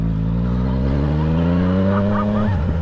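A motorcycle engine revs steadily up in pitch as it pulls away, loud and close, then drops off sharply near the end, with faint voices in the background.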